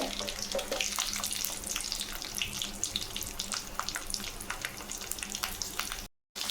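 Cumin seeds and garlic fry in hot oil for a Kumbakonam-style tomato chutney, a steady, close crackling sizzle with dense popping spatters that runs continuously before cutting off abruptly near the end; no voices.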